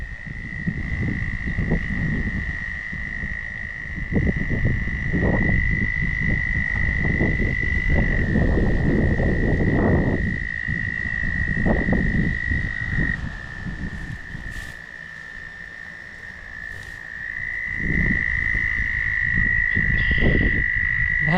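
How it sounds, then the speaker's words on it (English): A chorus of frogs croaking outdoors, loud and continuous, with a steady high trill running throughout under layers of deeper, overlapping croaks. "That's frogs."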